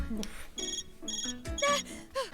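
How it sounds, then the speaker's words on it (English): A phone buzzes and chimes in the video game Death end re;Quest, sounding as short repeated tonal pulses at moderate volume. "Oh, it's just my phone. Jeez, that scared me. I hate the sound of vibration."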